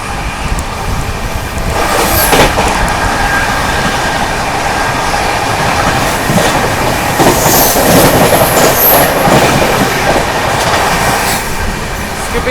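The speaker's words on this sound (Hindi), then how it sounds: "यहाँ पर अपनी ट्रेन जो है बिलमोड़ा जंक्शन स्किप करने जा रही है दोस्तों।" The Maharashtra Sampark Kranti Express (12907) rushes through Bilimora Junction at speed, a loud, steady roar of rolling wheels with rhythmic clickety-clack and brief metallic squeals, sustained throughout without speech.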